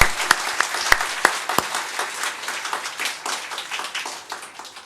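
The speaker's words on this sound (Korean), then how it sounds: "하나님께 영광의 박수 한번 합시다." A church congregation at a Christmas thanksgiving service bursts into applause, opening with a few loud, distinct claps before settling into a steady wash of clapping that gradually fades.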